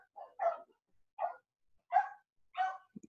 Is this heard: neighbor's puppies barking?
yes